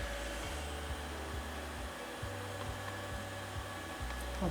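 A homemade induction heater runs at about 28 amps, giving off a steady electrical hum with layered tonal whine and fan-like hiss, constant throughout with no talking.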